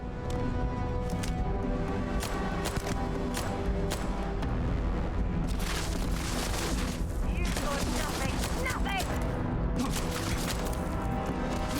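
Gunfire from a weapon in the video game Starfield: repeated sharp shots crack through a dense, busy soundscape of game effects, with voices heard at times.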